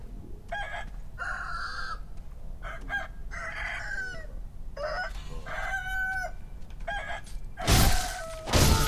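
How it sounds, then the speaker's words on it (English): Giant cockerels in the game Sekiro crow in a series of loud, repeated calls with brief gaps between them, followed by two harsh noisy bursts at the end. "More giant cockerels around here."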